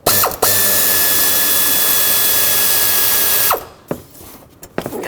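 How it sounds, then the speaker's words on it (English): A power tool whirs loudly and steadily for about three seconds while removing a 13mm bolt in a 2003-2021 Chevrolet Express engine bay, then stops, followed by a few sharp metallic clicks and taps. "I'm going to stick my socket with an extension down in here. It's a 13mm socket, and I'm going to try and remove this one."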